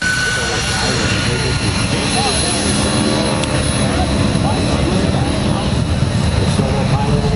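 Aircraft weighing about 5,500 pounds each fly in formation at the 2015 Melbourne, Florida air show, producing a loud, continuous engine roar that holds steady throughout.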